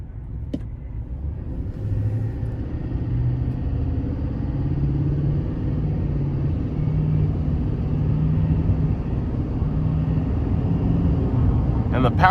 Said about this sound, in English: we'll give it just a little bit of throttle here.